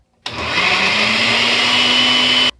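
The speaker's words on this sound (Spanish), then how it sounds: "una taza de leche entera y un plátano a la licuadora" A kitchen blender whirs loudly and steadily for about two seconds, blending a banana with a cup of whole milk, starting abruptly and cutting off cleanly.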